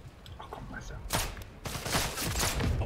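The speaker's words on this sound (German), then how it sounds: "ich höre Schüsse" Gunfire in Sniper Elite 5, a few sharp broadband bursts in quick succession followed by a longer dense volley, moderately loud with game ambience underneath.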